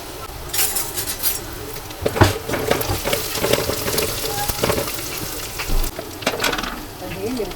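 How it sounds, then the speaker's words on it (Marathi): Garlic sizzles loudly in hot oil with a steady crackle, broken by a few sharp clinks and stirring scrapes. "खूप तेल टाकलं लसणाची फोडणी देते"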